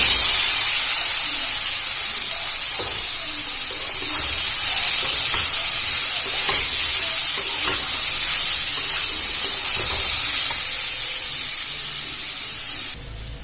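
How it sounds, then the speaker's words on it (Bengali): Boiled papaya and potato fry in a pan for a steady, loud sizzling hiss, with faint stirring scrapes now and then; the frying continues unbroken until it cuts off abruptly near the end. "আমি ভালো করে নাড়াচাড়া করে ভেজে নেব"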